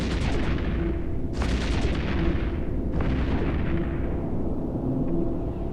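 Spaceship destroyed in combat in the EVE Echoes space game, with a Prophecy cruiser blown apart: loud, continuous booming explosions and rumbling artillery-like blasts, with two sharp bursts standing out over a dense roar.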